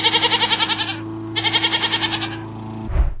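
A goat bleats loudly and close by in two long, quavering calls, followed by a brief low thump at the end.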